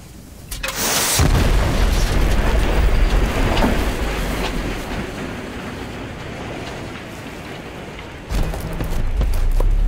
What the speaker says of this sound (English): there is such a small explosion for a dynamite